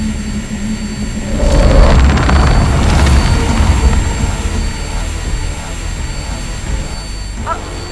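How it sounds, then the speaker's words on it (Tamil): A loud, rough motorbike engine roar, from a Bajaj Pulsar, swells and then holds as a steady rumbling drone, close and continuous throughout. "எனக்கும் பைக் சவுண்ட் தான் கேக்குது."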